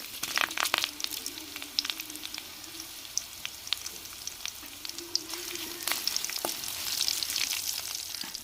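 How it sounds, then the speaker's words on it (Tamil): Curry leaves and dried red chillies frying in hot oil for a tamarind brinjal curry, giving crackling sizzles with bursts of sharp pops and a stirring scrape, close and with no talk. "கருவேப்பிலை போட்டுக்கிறோம் வத்தல் சேர்த்துக்கிறோம்"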